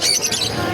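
Cockatiels and other caged birds at a bird market give sharp, shrill squawks in a brief close burst, with market bustle faint underneath.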